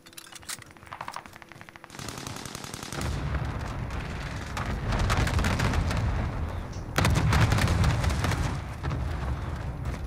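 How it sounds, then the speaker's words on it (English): Call of Duty Warzone airstrike: loud blasts and rattling fire rise from a rapid ticking start into sustained roaring bursts, with a fresh, stronger surge of explosions near the end. "Airstrike."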